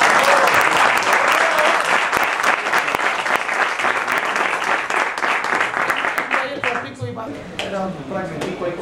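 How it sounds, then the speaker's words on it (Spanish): A crowd applauds loudly at a salsa pianists' gathering in Bogotá, with sustained clapping that gradually thins out toward the end, and a few voices can be heard as it fades. "démosle un aplauso"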